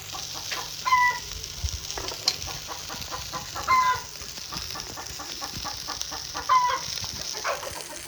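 Fennel seeds and cumin sizzle steadily in hot oil for aattukkaal kulambu, a goat trotter curry, with a few brief bird-like calls sounding in the background and no talking.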